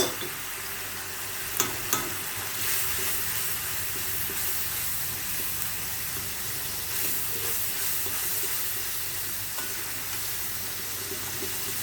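Fish roe mixture fried in a pan for a fish roe curry, giving a steady, moderate sizzle and hiss with a few sharp clinks of stirring near the start and no voices.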